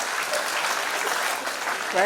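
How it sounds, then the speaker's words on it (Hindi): A crowd at a school annual function bursts into steady applause that fills the whole stretch, a dense wash of clapping with a brief voice rising near the end. "एक बार जोरदार तालियां"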